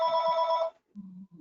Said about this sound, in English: Whose phone is it?